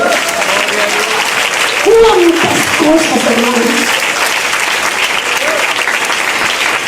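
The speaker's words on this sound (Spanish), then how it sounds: "Denle un aplauso." A church congregation applauds steadily, broad clapping throughout while a preacher speaks over it in the middle.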